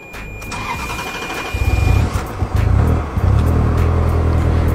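An old Ferrari's engine cranks repeatedly, a loud, close, rhythmic churning as the starter turns it over. The engine struggles and fails to catch.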